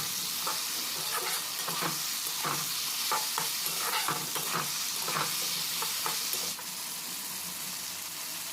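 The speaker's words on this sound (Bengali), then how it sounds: "এইভাবে ঝিঙেটা হালকা ভেজে নিতে হবে গ্যাসটা মিডিয়াম রেখে" Ridge gourd slices lightly frying in a pan over a medium flame, releasing their water: a steady close sizzle broken by repeated scraping stirs of a spatula, which ease off near the end.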